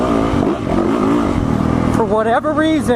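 A Yamaha motorcycle engine running at a ride day, a loud continuous drone with shifting pitch beneath someone talking throughout.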